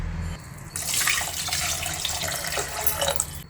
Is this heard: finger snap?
no